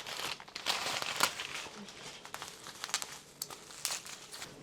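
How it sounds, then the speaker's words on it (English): Crinkly plastic and paper packaging rustles and crackles up close as an Armand Marseille doll is unwrapped, with irregular bursts of crumpling and occasional sharper crinkles throughout. "So I'm just gonna go ahead and unwrap her."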